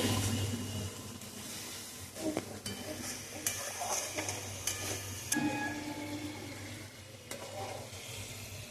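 Spice paste with sugar being sautéed in a pan, a quiet steady sizzle with intermittent stirring scrapes and light clinks, heard close and low in level.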